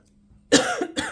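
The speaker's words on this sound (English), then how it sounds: "It's a very dry cough, too." A single sharp, dry cough, close and loud, followed by a second short hack after a brief pause.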